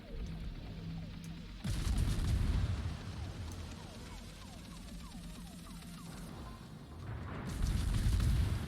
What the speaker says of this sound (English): See, there's another rocket shot.